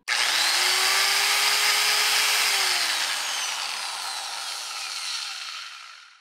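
A repaired Makita angle grinder spins up to a loud, high whine, runs steadily for a few seconds, then winds down as the motor coasts to a stop, heard alone and close.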